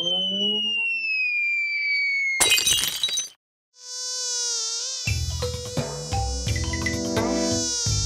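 A cartoon mosquito in an animated jungle adventure gives off a thin, high, slowly sinking whine for a couple of seconds, then a crash, a brief silence and bright music follow.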